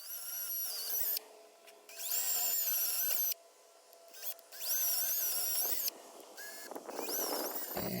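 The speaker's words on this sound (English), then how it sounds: "it's time to switch over to that 1/4" drill bit and drill all the way through." A power drill with a 1/4" bit whines in several bursts as it bores all the way through wood, with short quiet gaps between runs, close and fairly loud.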